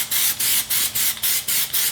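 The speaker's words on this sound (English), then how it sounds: "you just spray over the entire wheel without going too thick" Short hissing bursts of Plasti Dip spray onto a car wheel repeat in a steady rhythm, about seven quick sprays close by with brief gaps between them.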